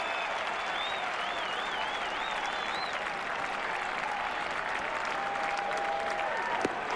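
Fenway Park baseball crowd applauding a Pedro Martinez strikeout in a 1998 Red Sox game against Seattle, steady distant clapping and crowd noise, with a few faint whistles rising above it.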